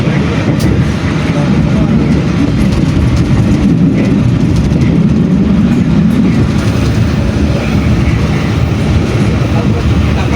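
The Argo Wilis passenger train runs straight through Leles station, a loud steady rumble of wheels and cars rolling close by, with a voice talking over it.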